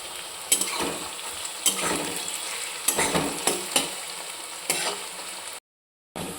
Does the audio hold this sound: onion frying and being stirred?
yes